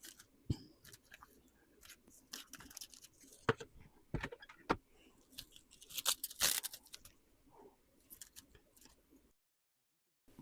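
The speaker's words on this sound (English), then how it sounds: "we're going to go ahead and cut our plastic wrap" Plastic wrap cut into pieces at a resin crafting table, giving quiet, sparse snips, crinkles and rustles with short pauses and a brief silence near the end.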